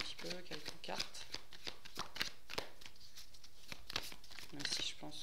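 Oracle cards being shuffled and drawn by hand, with crisp riffling and slapping card sounds in quick bursts, close and moderately loud, while a person talks over them.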